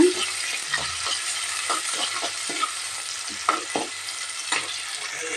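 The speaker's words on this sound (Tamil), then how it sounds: "ஆனியனும் கருவேப்பிலையும் நல்லா ஃப்ரை பண்ணி எடுத்துக்கலாங்க" Onion and curry leaves fry in a hot kadai with a steady, close hiss of sizzling oil, broken by repeated scraping and stirring strokes throughout.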